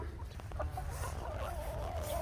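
Backyard hens at a garden chicken coop cluck and murmur in a steady, close chatter, with one drawn-out warbling call rising above the flock.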